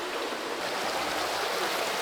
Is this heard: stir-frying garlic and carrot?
no